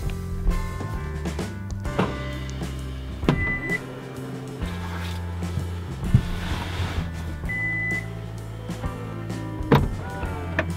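Kia Sportage power tailgate opening, with a series of electronic beeps, mechanical clicks and a whirring motor, moderately close and fairly quiet amid outdoor background noise.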